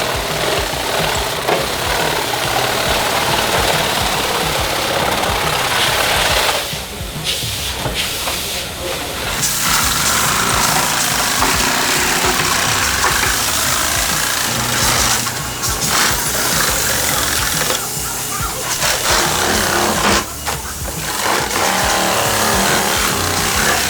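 Super Shear foam saw cutting through 9.5-foot foam wall panels, a steady loud hissing, whirring drone that runs almost unbroken, with brief dips where the blade pauses between passes.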